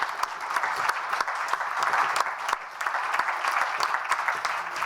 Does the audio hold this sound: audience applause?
yes